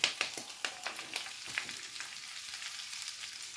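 Cabbage sautéing in a 10-inch cast iron pan over medium heat, a close, steady sizzle and crackle with a few sharper pops at the start that settle into a softer, even frying hiss.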